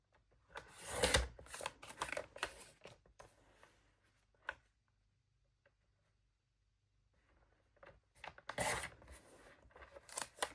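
Scissors trimming a sheet of Calypso Coral card after die cutting at a craft table, with bursts of papery cutting and rustling at the start and end and a quiet stretch between.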